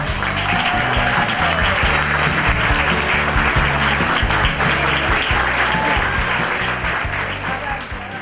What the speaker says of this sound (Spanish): Un fuerte aplauso para Néstor Palmetti